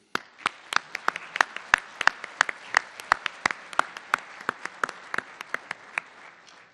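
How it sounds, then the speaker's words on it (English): Scattered individual claps ring out in a hall at a College of Humanities winter graduation convocation, sharp and irregular, a sparse handful of audience members clapping rather than a full ovation. "You deserve as well a warm round of applause from all of us for all of your support"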